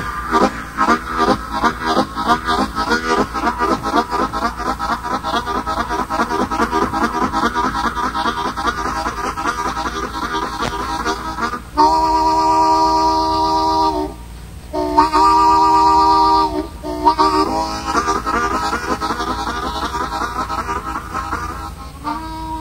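Live acoustic guitar music from a 1980 university concert, imitating a train: steady chugging rhythmic picking with sustained chordal whistle-like blasts in the middle, loud and continuous throughout.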